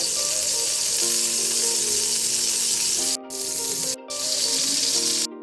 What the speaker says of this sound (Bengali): তো আমি এবার এই সেম প্রসেসে আমি সবগুলো মাছ বেজে নিব